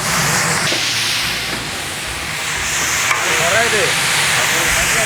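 Steady loud sizzling and hissing of hilsa fish frying in hot oil, with a few faint voices murmuring underneath.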